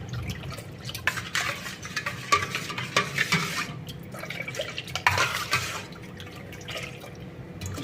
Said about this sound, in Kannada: ಈಗ ಇದು ಬೆಲ್ಲ ಕರಗೋಕೆ ಚೆನ್ನಾಗಿ ಮಿಕ್ಸ್ ಮಾಡ್ಕೊಳ್ಳಿ